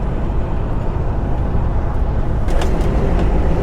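A heavy truck cab interior while driving along the A66 just after pulling out of a lay-by, with a loud, steady low engine and road rumble and a few faint clicks or rattles near the end.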